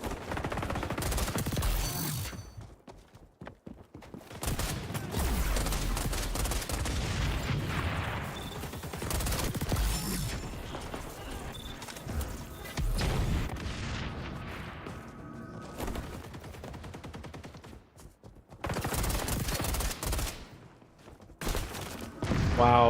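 Bursts of rapid gunfire and booming shots ring out in the shooter game XDefiant. The volleys are loud and sustained, broken by brief quiet gaps, with no talk over them.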